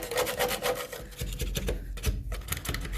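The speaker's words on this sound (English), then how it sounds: "we spend the next couple of years scraping it off." A hand scraper rasps old coating off a Ford Capri 2.8i body shell mounted on a rotisserie, with repeated close scraping strokes in quick succession.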